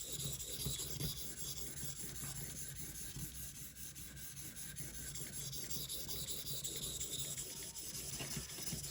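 A Cold Steel 4-Max Scout knife is drawn repeatedly across the stone of an Edge Pro Apex sharpening system, giving a continuous, close, soft rasping scrape with no talk.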